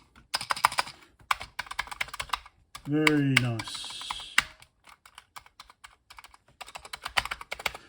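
Rapid clattering keystrokes on a refurbished Commodore VIC-20 keyboard, close and crisp in irregular bursts, with a brief spoken remark midway through.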